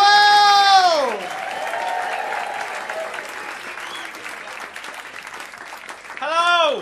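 An audience at a Comic Boom 2018 comedy show applauds and cheers as the comedian takes the stage, with steady, moderately loud clapping that fades slightly. Tonal bleating-like noises open and close the stretch.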